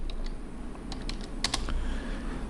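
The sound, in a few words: typing on a computer keyboard in AutoCAD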